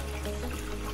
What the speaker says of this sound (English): The first thing you'll need to do is fill your kettle.